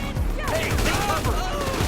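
Rapid gunfire bursts in a GTA V Online shootout against bikers, dense and continuous with overlapping shots, while voices shout over the combat.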